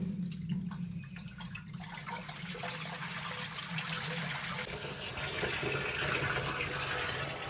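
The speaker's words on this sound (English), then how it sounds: "So now it's time to add water to it." Water pours steadily into a 14-gallon frameless Aqueon glass aquarium during setup, a continuous close splashing fill with low rushing and trickling that keeps an even level throughout, with no talking.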